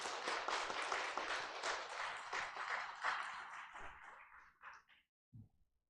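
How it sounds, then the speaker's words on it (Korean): A church congregation claps in appreciation during a Sunday worship service, a dense, sustained round of applause from many hands that gradually thins and fades, ending with a few scattered last claps. "우리 권사님께도 감사의 박수 한번 드리도록 하겠습니다."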